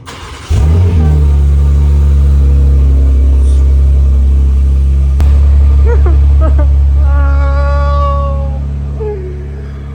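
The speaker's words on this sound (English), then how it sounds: "Let's go ahead and give you guys the last cold start with the M4" A BMW M4 Competition engine starts from cold with a sharp catch, then settles into a loud, steady, high idle close by. A voice comes in over the idle near the end.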